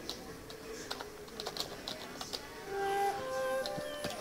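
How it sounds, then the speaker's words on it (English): Computer keyboard typing a short message, rapid irregular key clicks close up, with a faint tonal hum rising toward the end. "type a message here"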